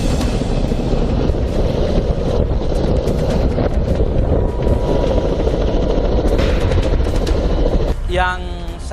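Loud, constant roar of a nearby rescue helicopter in the Carstensz mountains, with rapid rotor chopping and wind buffeting, easing off near the end.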